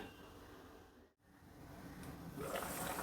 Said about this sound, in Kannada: ನೋಡಿ ಚೆನ್ನಾಗಿ ಕುದೀತಾ ಇದೆ